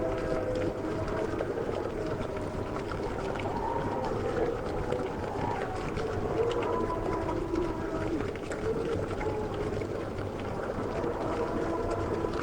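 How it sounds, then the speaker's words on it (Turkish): A long, continuous droning hum from the pit in the video game Mine Racer, with a faintly wavering tone, holding steady at the same level throughout. "Bu da çukurun sesi arkadaşlar."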